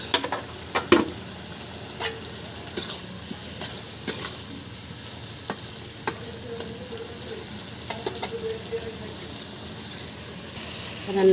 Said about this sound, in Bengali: ভালোভাবে নেড়ে চেড়ে কষাবো